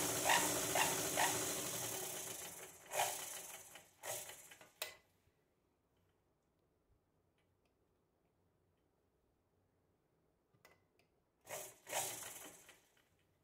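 A sewing machine stitches the layered fabric of a three-layer designer frock, running in loud, close, whirring bursts with a long near-silent pause between the stitching runs.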